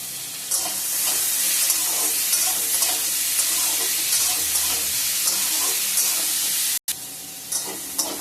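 Vegetables with green chilies and salt are stirred in a sizzling frying pan, giving a loud continuous hiss with faint spatula scrapes. The sound drops out briefly near the end and then the frying picks up again. No voices are heard.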